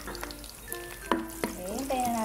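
Onions go into hot oil already infused with garlic for pinakbet, frying with a steady soft sizzle while a spoon clinks and scrapes the pan in a few sharp knocks.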